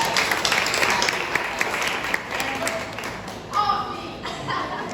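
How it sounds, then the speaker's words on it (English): An assembly audience sitting in a warm barn gives a round of applause, with scattered clapping and some laughter. People talk over and after it, and a louder burst of clapping rises near the end. "Let's give you guys a round of applause"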